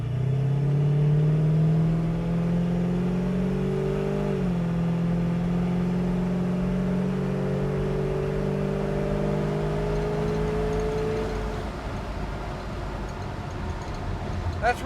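A 1969 Pontiac Firebird's engine pulls steadily while driving, its close mid-range drone climbing gradually in pitch as the car gathers speed, with a constant road and cabin rumble underneath.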